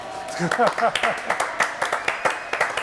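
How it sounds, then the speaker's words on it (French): A studio audience on a French television show breaks into applause, rapid overlapping claps pulsing near and steady while a presenter keeps talking over them. "Voilà, applaudissements"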